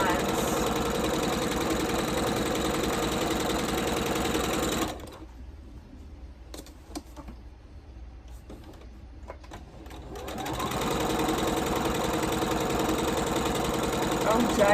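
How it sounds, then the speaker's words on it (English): A sewing machine runs steadily while stitching quilt pieces for a Shoofly Star block along drawn lines, a close whirring hum that stops for several seconds of near quiet with light handling noises, then resumes. "Just keep putting these through until you've sewn on all of your drawing lines."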